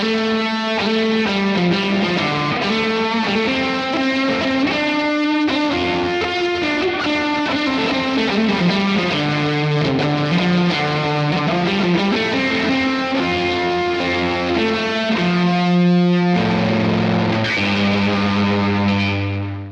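Heavily distorted electric guitar, a Reverend Jetstream 390 with fuzz EQ'd thin, playing sustained chords and lines continuously and loudly throughout, with no voices.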